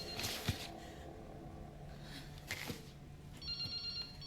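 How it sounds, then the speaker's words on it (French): A mobile phone in Resident Evil Requiem rings in a repeating electronic ringtone, thin and steady, with short bursts and a clearer tone near the end and no talk. "Il y a un portable là-dedans."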